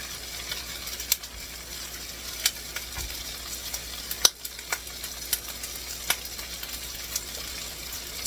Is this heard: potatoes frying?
yes